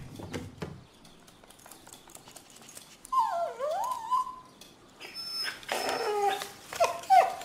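A dog whimpers and yips in a series of rising and falling whines, fairly close, with a short low bump at the start and higher yelping cries toward the end; no one speaks.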